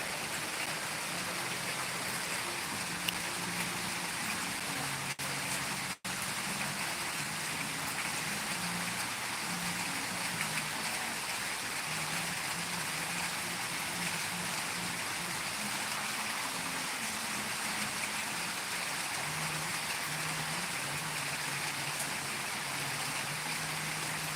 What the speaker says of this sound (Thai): แต่ทางกรุงเทพก็ฝนตกนะฝนตก